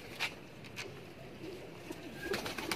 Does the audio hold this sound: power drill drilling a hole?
no